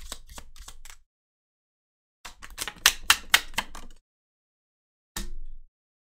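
Tarot cards being shuffled and laid out during a love reading, heard as a few bursts of crisp riffling and slapping close by, separated by silence, with one sharp final snap.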